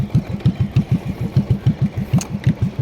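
A motorcycle engine during a riding lesson, running in a fast, even pulsing throb as it's held on the throttle, loud and close with no talk over it.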